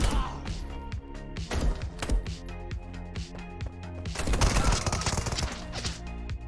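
Gunfire in the Marauders shooter, a rapid string of sharp, close shots and impacts with a heavy burst building toward the end, under faint background talk.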